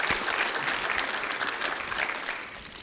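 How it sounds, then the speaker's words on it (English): Conference audience at a cybersecurity event breaking into sustained applause, a dense, steady wash of clapping that carries on alone with no voices. "Let's give him another round of applause"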